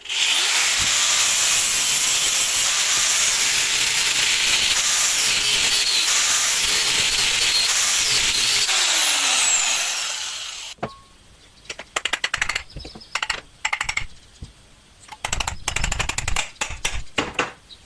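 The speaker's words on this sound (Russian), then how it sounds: "просто болгаркой разрежем и таким принципом будем разбирать" A loud, steady grinding hiss from an angle grinder cutting rusted bolts on an electric pump motor runs for about ten seconds, then stops, followed by scattered clanks and knocks of handling.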